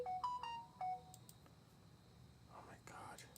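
A mobile phone rings with a few short electronic tone bursts near the start, followed by rustling and faint background noise.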